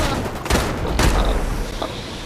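Video game gunfire crackles in loud, close bursts, with two or three heavier volleys standing out against a dense background of game noise.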